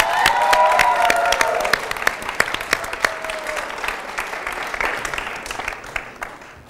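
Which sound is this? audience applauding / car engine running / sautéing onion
audience applauding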